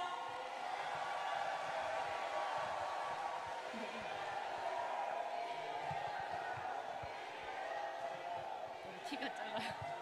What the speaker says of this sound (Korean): 뜨거운 박수와 함성으로 맞아주십시오